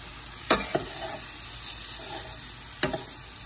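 Basmati rice being stirred in a pan for chicken fried rice gives a low background sizzle, with a few sharp scraping clicks of a utensil against the pan at irregular intervals.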